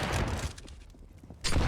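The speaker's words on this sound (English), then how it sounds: "Speed looking for the early frag, and the early frag he finds. He's so fast. My God, that's a sick shot" Gunfire bursts in a competitive first-person shooter match, a loud volley at the start and another sharp burst near the end, with quieter game noise between.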